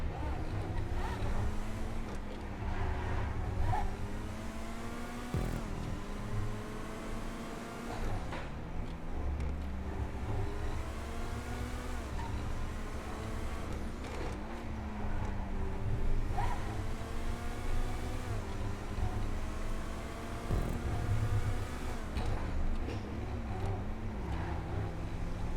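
The Neo sports car in GTA 5 drives at speed, its engine droning steadily with rising and falling pitch as gears change, a continuous moderately loud game engine tone with occasional shifts.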